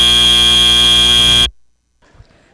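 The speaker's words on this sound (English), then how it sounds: "And with that buzzer, that concludes the match." A loud, steady electronic buzzer sounds at the end of an FTC robotics competition match, then cuts off abruptly into silence followed by faint room noise.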